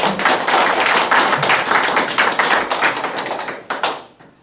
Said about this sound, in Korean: 다시 서로 사랑의 마음을 담아서 우리 박수로 한번 축복할까요?